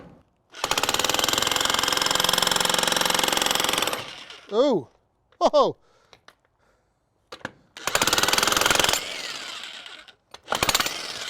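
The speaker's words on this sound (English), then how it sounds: "I'm going to get this jackhammer set up, and we're going to see how well it does taking this foundation out" A loud jackhammer pounds in long rapid bursts breaking out a concrete foundation in a wood shed, stopping between runs while a person exclaims briefly in the pauses.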